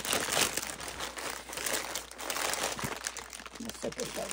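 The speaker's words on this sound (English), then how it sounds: "So I'm gonna get this cut open and we'll get started" A Temu package is cut open, close crinkling and crumpling of plastic and paper with rustling handling throughout, mixed with some faint talk.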